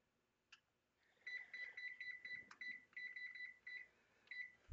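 Kitchen timer being set for a casserole, giving a run of short, bright electronic beeps in quick bursts, close and clear, with one longer beep near the end and no talking.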